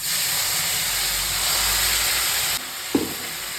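Mustard-poppy paste with black cumin and green chillies sizzles and hisses steadily in hot oil, a broad, fairly loud frying hiss that eases slightly near the end, broken by a small clink.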